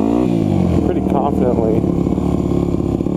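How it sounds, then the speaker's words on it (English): 2001 Yamaha WR250F supermoto motorcycle engine revving loudly up close as it rides up over a curb, with someone talking over it. "So this bike will go up over curbs."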